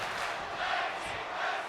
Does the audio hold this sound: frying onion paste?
no